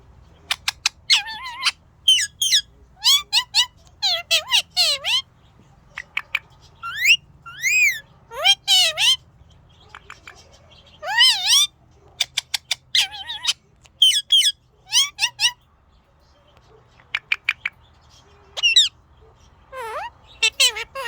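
A pet ringneck parrot whistles and squawks in a busy series of sharp, rising and falling calls, loud and close indoors, with brief pauses between the bursts.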